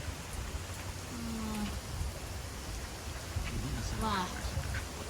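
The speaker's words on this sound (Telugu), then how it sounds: "వర్షం నాన్ స్టాప్గా పడుతూనే ఉంది, పెద్దగా పడుతుంది వర్షము" Heavy, nonstop rain falls outdoors at a scenic spot in Gangwon, South Korea, a soft, steady wash of sound heard at a distance, with faint voices and a few brief tonal calls drifting over it.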